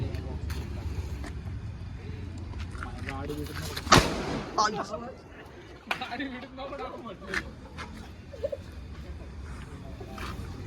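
One sharp, loud firecracker burst goes off nearby outdoors amid a group of people talking and shouting, with a low background rumble before and after.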